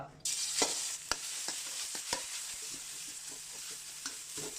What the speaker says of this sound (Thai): ก็ผัดสามเกลือมาพอหอม